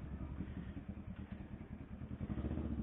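A motorcycle engine drones steadily while riding at speed, with constant wind rush against a windscreen, a muffled, fairly faint rumble throughout.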